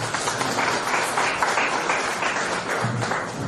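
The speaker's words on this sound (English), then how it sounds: "Please give a applause." Audience applause at an Ayurveda talk event, a dense continuous wash of many hands clapping evenly throughout, fairly loud and with no voices over it.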